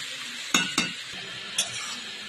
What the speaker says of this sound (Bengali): আমি তেলের সঙ্গে এটা ভালো করে ভেজে নিয়ে তারপরে আমি মশলা অ্যাড করি